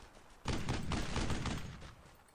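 Machine gun fire in the World War II shooter Brothers in Arms: Earned in Blood, a loud dense burst that kicks in abruptly and rattles on for about two seconds before tapering off.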